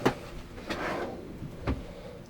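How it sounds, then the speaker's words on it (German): Large kitchen drawers slide open in a 2021 Dethleffs Just 90 T7052 EB motorhome on a Fiat Ducato base, with a couple of soft thuds and a rolling glide between them in a quiet interior. "Große Schubladen, bitte mal öffnen."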